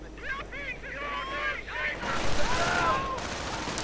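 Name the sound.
BAR gunfire in a video game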